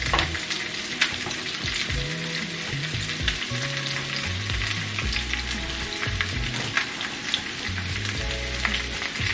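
A Cornish hen pan-searing in oil over a medium flame, giving a steady, dense crackling sizzle that stays close and even throughout, with occasional louder pops and no talk.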